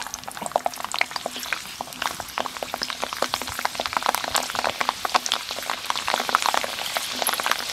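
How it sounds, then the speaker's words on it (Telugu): Garlic frying lightly in a pan for chicken pickle, a dense steady crackle of fine sizzling pops spread evenly throughout, with a faint low hum beneath and no talking. "ఎల్లుల్లిపాయలు కాడ లైట్గా వేయించుకోవాలి."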